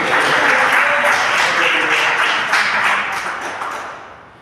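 A church congregation claps together, loud and close at first, the dense applause gradually thinning and fading over a few seconds.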